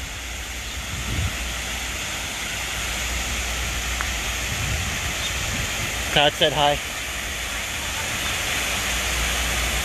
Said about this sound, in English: we're going underneath this waterfall here